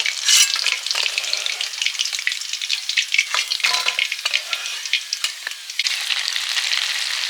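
A second batch of chicken pieces fries in hot oil with a steady, loud crackling sizzle, interrupted by occasional stirring scrapes and taps, close and continuous with no voices.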